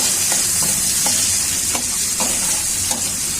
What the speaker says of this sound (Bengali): পেঁয়াজটা ভালো করে ভাজা হয়েছে